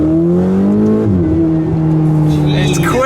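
A Ferrari 488 GTB heard from inside the cabin as it accelerates, the engine note climbing in pitch, dropping at a gear change, then pulling again smoothly and fairly quietly, with a voice briefly present.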